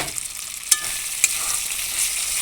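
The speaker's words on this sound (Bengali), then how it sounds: "এভাবে আমি কিছুক্ষণ কষিয়ে নেব" Spices for prawn malai curry sautéing in a pan, a loud steady sizzle close up, broken by two quick scrapes or taps of a spatula against the pan, with no voices.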